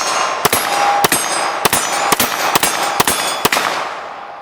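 Seven sharp handgun shots from a Canik SFX Rival pistol ring out at an even, unhurried pace about half a second apart, each loud crack followed by a short ringing tail.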